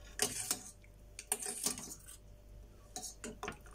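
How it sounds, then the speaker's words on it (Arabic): Metal strainer scooping meat out of a pot of broth, a series of close clinks and scraping knocks against the pot's rim and sides, irregular and moderately loud, without talk. "بتسهل علينا جدا المصفى دي ان احنا ناخد كل كميه اللحمه اللي موجوده"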